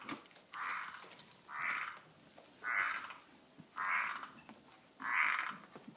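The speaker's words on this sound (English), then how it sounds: "we've got a really loud frog in here" A loud frog croaks indoors, five evenly spaced, drawn-out calls about a second apart, close and clear against a quiet room with no talking.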